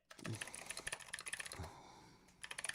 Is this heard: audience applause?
no